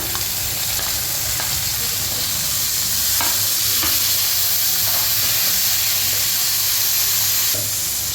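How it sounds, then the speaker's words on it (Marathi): Onion and tomato fry in a pan for butter chicken, giving a steady loud sizzle and hiss close up, with occasional scrapes of a spatula stirring. "कांदा आपण भाजून घेणार आहोत छान आहे। आता आपण टमाटर ॲड करूया।"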